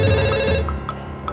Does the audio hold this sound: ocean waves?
no